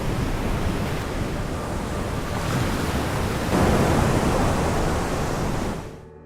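Ocean waves wash onto a beach in a continuous, loud roar of surf that swells midway and then fades away near the end, with no voices.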